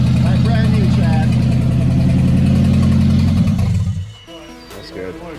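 A K-swapped 8th gen AWD Honda Civic engine runs close and loud with a steady rumbling idle that cuts off near the end, followed by quieter shop noise and voices.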